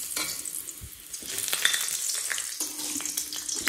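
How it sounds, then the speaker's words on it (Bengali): Papad frying in hot oil in a home kitchen at night, a steady close sizzle with bursts of crackling and stirring sounds, no talking. "তাই আবার পাঁপড় ভাজছি এখন।"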